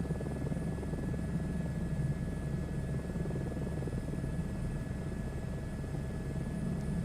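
A helicopter in Microsoft Flight Simulator 2024 drones with a steady rotor hum and engine whine, constant and moderately quiet throughout, with no talk.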